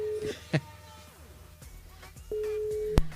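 Telephone busy signal on a call that goes unanswered during a live radio broadcast, steady tone pulses with a brief click between them, fairly clear and alone without talk.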